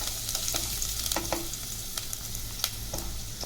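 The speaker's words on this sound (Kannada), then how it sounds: "ಸಣ್ಣದಾಗಿ ಹೆಚ್ಕೊಂಡಿರೋ ಬೆಳ್ಳುಳ್ಳಿ ಶುಂಠಿ ಪೀಸಸ್ನ ಹಾಕೋಣ. ಇದನ್ನು ಚೆನ್ನಾಗಿ ಫ್ರೈ ಮಾಡ್ಕೊಳ್ಳಿ." Finely chopped garlic and ginger fry in about two spoons of hot oil, with a steady, bright sizzle and occasional stirring scrapes and clicks.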